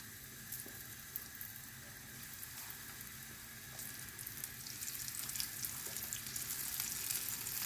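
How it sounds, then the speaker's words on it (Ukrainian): Steady crackling sizzle of cheese pancakes (syrniki) frying in a little oil in a pan, close and continuous, growing slightly louder toward the end, with no voices. "на сковорідку налила трошки олії. І ось буду викладати отакі в мене сирники"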